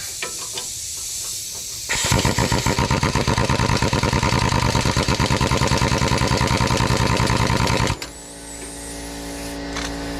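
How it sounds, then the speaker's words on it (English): A worn-out air compressor in a garage during a 2000-2006 Toyota Tundra sway bar end link job runs with a loud, rapid pulsing chug for about six seconds, then drops back to a steady hum with faint clinks. "my air compressor's on its last legs"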